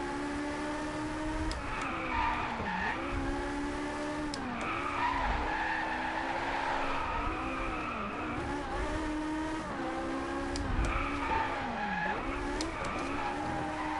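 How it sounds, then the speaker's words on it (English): A Ferrari drifts in the racing game Driveclub, its engine note rising and falling while the tires squeal continuously through repeated slides, loud and steady with no talk over it. "This Ferrari drift's amazing. I mean, well, not amazing, but it drifts pretty good."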